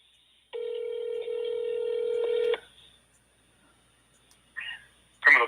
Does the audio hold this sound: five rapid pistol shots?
no